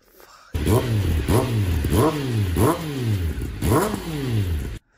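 Kawasaki Ninja motorcycle engine warming up, running loud and close with repeated rhythmic rises and falls in revs, about six surges over the stretch before cutting off abruptly.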